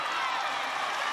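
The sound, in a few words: crowd cheering at a women's rugby match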